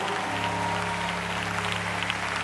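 A church congregation applauds in praise, a dense, steady wash of clapping from many hands that fills the room evenly from start to finish with no break.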